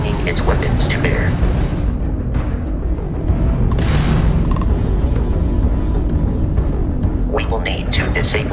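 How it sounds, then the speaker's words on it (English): Crimson Fleet ship weapons firing during ship combat in Starfield, a steady roar of booms and rumbling blasts with engine drone, loud and continuous, with a voice talking over part of it. "that's a Crimson Fleet ship bringing its weapons to bear"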